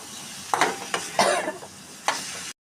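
Cauliflower florets being stir-fried with spices in a pan, a steady sizzle broken by four or five loud scraping stirs of a spatula, close by and with no talking.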